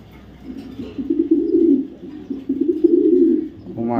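A BRPFC club Afsan grizzle male racer pigeon coos close by in low, throaty rolling phrases, swelling and fading in two long bouts with a short gap between them.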